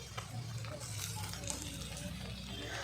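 Ginger-garlic paste sizzles softly with lightly browned onions in a pan while being stirred, a low, continuous frying hiss with faint scraping.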